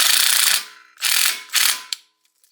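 A ratchet tightening a bolt to pull the rear brake rotor off a Subaru BRZ, three close, loud ratcheting strokes, each a buzzing run of pawl clicks, followed by a faint click and quiet.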